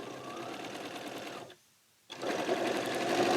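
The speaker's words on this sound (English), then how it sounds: "So I'm just going to stitch off to the next one." A sewing machine stitching fabric pieces for a quilt block, running in a fast steady whir, pausing briefly for about half a second, then starting again slightly louder.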